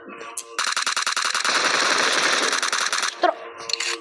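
Loud automatic gunfire in a video game rips out as a rapid, sustained burst of shots lasting a few seconds, with brief player voices around it.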